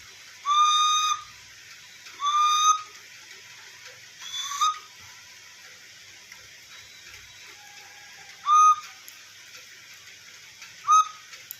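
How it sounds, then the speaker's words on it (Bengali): A baby's toy whistle gives five or six short, shrill toots at uneven intervals, clear and close, with quiet pauses between them. "এই যে বাঁশিটা বাজে"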